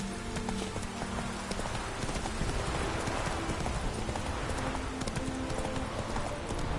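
Horse hooves clip-clopping in a steady, continuous rhythm, loud and close, with no talk over it.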